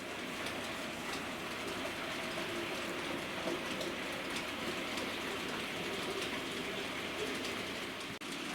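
Model West Country class locomotive running with Bachmann wagons and brake van, a steady close rolling whir and rail rumble with faint ticking, continuous throughout.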